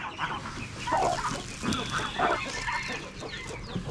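Jungle fowl clucking nearby in rural northwest Vietnam, soft repeated clucks over a noisy farmyard background, no one speaking.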